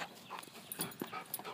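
A pet dog whines and whimpers in short, uneven bursts while playing fetch outdoors, the sounds faint and close, with no talking over them.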